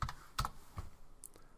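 Several quick keystrokes on a computer keyboard as a zip code is entered, short clicky taps in a loose cluster with brief pauses, close and fairly quiet, no talking.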